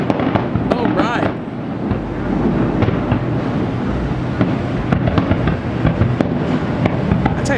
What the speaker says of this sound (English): It's the one where you can hear the boom coming off the echo coming off the vaulting building.